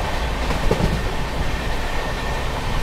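Magadh Express train running flat out at 110 km/h, a steady loud rumble of wheels on rails with faint clickety-clack throughout.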